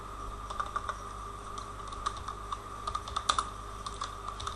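Close-up typing on a computer keyboard: quiet, irregular clusters of key clicks with short pauses, steady and unhurried, over faint background hiss, no voices.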